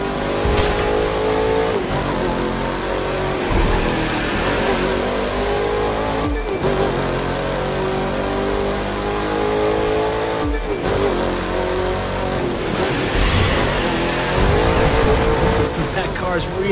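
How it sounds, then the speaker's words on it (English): Sleeper car in the racing video game The Crew 2 accelerating hard, a loud continuous engine roar with brief dips at each gear change before climbing again. "That car's really moving."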